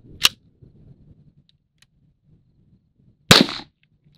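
A Kel Tec CMR30 rifle's dead trigger gives two sharp, close mechanical clicks about three seconds apart, with faint handling noise between them.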